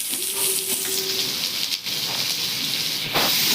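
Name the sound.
chopped onion sizzling in oil with cardamom, cloves, cinnamon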